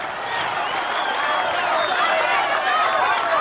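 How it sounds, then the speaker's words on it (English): A large crowd roars and cheers continuously at a 1996 World's Strongest Man strongman event, a dense, steady wall of shouting and applause that stays loud throughout. "And the crowd going absolutely crazy, he's in the lead."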